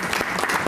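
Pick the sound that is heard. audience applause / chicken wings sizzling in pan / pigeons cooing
audience applause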